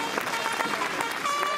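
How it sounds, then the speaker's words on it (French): An audience applauds the visiting Polish dance team from Cieszyn at a show in Montbrison, France. The clapping is dense, steady and crowd-wide, and a faint voice can be heard underneath. "je vais vous demander de les applaudir encore une autre fois"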